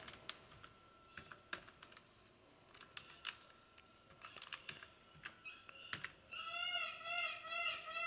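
Keys clatter on a computer keyboard in quick, uneven bursts while a captcha code is typed, fairly faint and close, with a louder stretch of other sound near the end.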